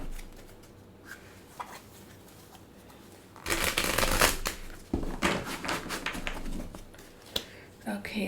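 A tarot deck is shuffled and cut, quiet handling at first, then a loud burst of rapid riffling card flutter followed by scattered sharp card taps and snaps.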